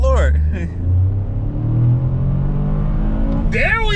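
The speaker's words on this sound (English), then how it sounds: "All right, floor it now. Floor it." A Toyota GR Corolla Core Edition is floored at full throttle, its engine revving hard in a steady, loud rising rumble from inside the cabin, with brief talk at the start and end.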